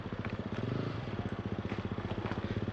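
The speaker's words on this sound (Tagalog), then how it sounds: "So naririnig nyo yung mga motor." Trail motorcycle engines rumble steadily with a rhythmic, chugging pulse, a loud, close revving drone that holds throughout, in a forest in Israel.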